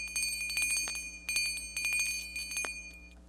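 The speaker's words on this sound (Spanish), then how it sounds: "Con mano temblorosa, tira de la campanilla." A small door bell pulled by hand rings in several quick jangling bursts, bright metallic tinkles with lingering ring between pulls, close and clear with no voices.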